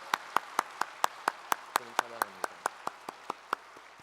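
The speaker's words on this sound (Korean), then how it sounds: "다시 한번 하나님께 감사의 박수를 드리겠습니다." A church congregation at a Korean thanksgiving prayer service claps in unison, sharp evenly spaced claps about four per second, steady and near, with a brief sung or spoken voice partway through.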